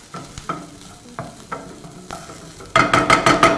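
Onions and a beef mixture fry and caramelize in a pan with a steady sizzle, broken by repeated scraping stirs that grow louder and quicker toward the end.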